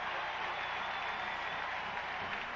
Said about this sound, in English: the crowd roars at Bryant-Denny Stadium on 4th down